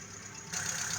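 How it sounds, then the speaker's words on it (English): A 2015 Mitsubishi Lancer engine idles with a steady, even hum. It grows somewhat louder and brighter halfway through, as if the microphone moves closer to the hail-damaged car. "with the motor running"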